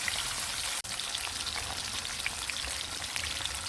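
Grunt fish fries in a pan with a steady, close, crackling sizzle and scattered small pops, heard alone without talk.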